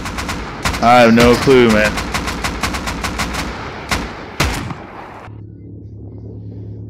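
Rapid bursts of automatic gunfire with explosive ammo in the survival game Rust, a loud crack-heavy volley over about five seconds, then a sudden cutoff to a low hum; someone talks over the shooting.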